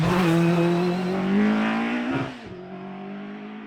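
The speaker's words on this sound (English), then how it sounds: "Stuart Robb's Colbeam MP57 put on a show, looking and sounding phenomenal at speed up the hill." A racing car's engine screams past at high revs up the Doune Hillclimb, pitch climbing then dropping sharply as it changes gear and fades off into the distance.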